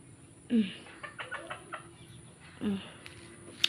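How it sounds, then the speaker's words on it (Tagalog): Two short clucking calls from a chicken, close by, with quieter bird chatter between them over a steady background hum. "Manok kulit yun."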